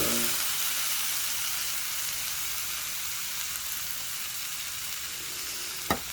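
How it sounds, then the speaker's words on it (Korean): Marinated jumulleok meat sizzling on a hot grill pan, a close, steady hiss of frying throughout with a single clink near the end. "맛있게 익는 소리 좀 보소"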